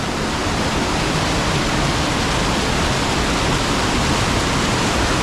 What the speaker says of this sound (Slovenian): Ja, lejte, iz tle izvira voda.